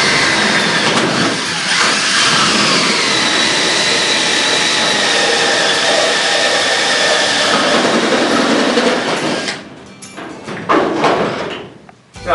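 A drill spins a 2.5-inch hole saw through material while installing an OdorStop OS36 UV air treatment system, a loud, steady whining grind for about nine seconds that cuts off, followed by a few short bursts.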